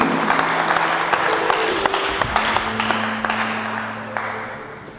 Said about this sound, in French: Acclamez le Seigneur très fort si vous êtes bénis